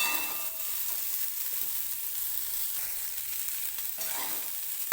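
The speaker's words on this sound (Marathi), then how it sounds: "2-3 मिनिटे मी हा हरभरा जो आहे तो असाच परतून घेणार आहे तेलामध्ये" Green chickpeas stir-frying in oil, a continuous close hiss of sizzling broken by a few soft scrapes and knocks of the spoon moving them around the pan.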